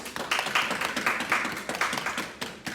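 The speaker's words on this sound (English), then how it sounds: "let's give them a round of applause" A round of applause rings out at a kata flag tournament, a brisk, close run of many hands clapping that stays fairly even throughout.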